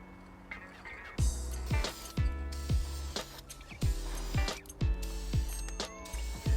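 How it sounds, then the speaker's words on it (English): Repeated short hissing bursts of an aerosol spray, about a dozen in an irregular rhythm, each with a mechanical click, close and moderately loud. "Spray and release, spray and release."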